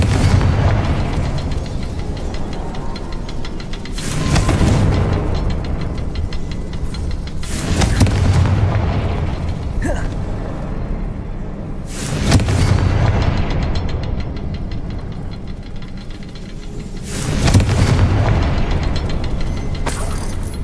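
Repeated Confringo fire-spell explosions in the video game Hogwarts Legacy: four loud booming blasts roughly every four seconds, each with a sharp crack and a rumbling tail, with no talk.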